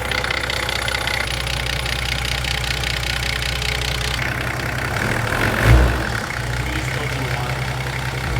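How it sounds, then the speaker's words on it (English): A factory-turbo diesel engine freshly swapped into a GQ idles with a steady, knocking rumble, its exhaust rattling loosely throughout; one brief louder thump stands out near the end, with no speech. "The exhaust is rattling like crazy"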